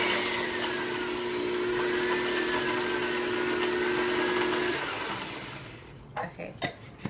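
A blender runs slowly, mixing lemon and sea salt as a mayonnaise base, giving a steady close motor whine that cuts off before some light handling clatter.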